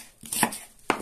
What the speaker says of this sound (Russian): вообще я беру блендер и, друзья, блендер измельчу.